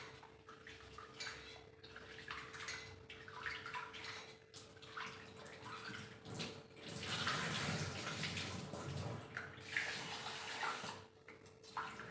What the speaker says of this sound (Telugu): బియ్యం కడిగి పెట్టుకుంటున్నానండి